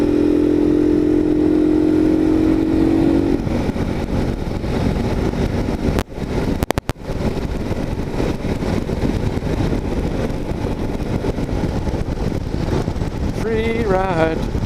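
CSC RX-3 motorcycle engine while riding, a continuous close rumbling drone mixed with wind buffeting, a brief dropout midway and a rising rev near the end.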